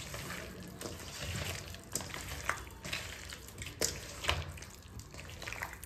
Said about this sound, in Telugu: ఒకసారి ఈ పెరుగు ఈ మసాలాలు బాగా పట్టేటట్టు ఇంకొకసారి కలుపుకుందాం.